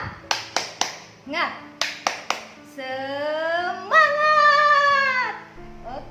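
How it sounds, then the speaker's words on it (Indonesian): A class of first-grade children performs a rhythmic clapping chant, sharp hand-claps in quick groups of three, followed by children's voices chanting together in a sustained, sing-song call. "mari kita tepuk semangat"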